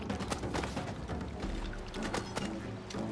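Splashing, gurgling water from a character falling into water in the It Takes Two video game, a continuous busy wash of liquid sound filling the whole moment without speech.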